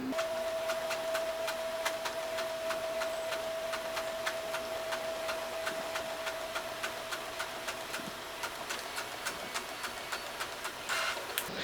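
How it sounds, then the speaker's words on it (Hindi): An Epson inkjet printer makes a colour photocopy, giving a steady mechanical whir with a rapid, even ticking of the moving print carriage and a louder clatter near the end. "अब हम इससे एक फोटो कॉपी ले रहे हैं।"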